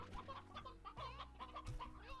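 Hens and roosters in a video game cluck in a quick, choppy series of short calls, fairly quiet, over a low rumbling background.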